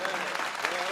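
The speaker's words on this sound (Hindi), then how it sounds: "हाथ उठाकर कम से कम 10 बार तालियां बजाइएगा" Audience applause at a Hindi kavi sammelan poetry gathering, a dense, steady wash of many hands clapping together, fairly close and filling the whole moment without any voices.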